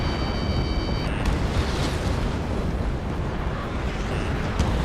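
Missile explosions in the combat flight game Ace Combat 7 form a dense, continuous rumble of booms and blasts, loud and sustained throughout with a few sharper bursts layered over a roaring engine-like wash.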